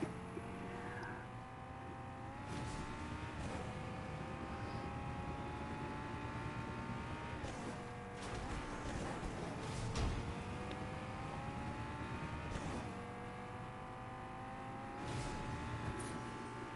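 Car engine in Fortnite hums steadily with rising pitch sweeps as it accelerates and shifts, a continuous loud drone with brief bumps and crunches throughout.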